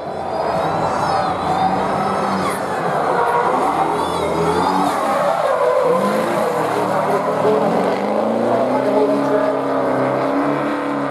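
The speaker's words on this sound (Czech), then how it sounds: "A u nás dlouho držel ruční brzdu, tím ztratil rychlost, auto se začalo automaticky srovnávat" A blue-and-black BMW E34 drift car slides through a qualifying run at a drift competition in Sosnová, its engine whine rising and falling with tire squeal and skidding, loud and continuous, while a commentator talks over it.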